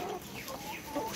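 Layer hens on a poultry farm clucking in a brief, soft burst of overlapping calls, heard from close by with no talk.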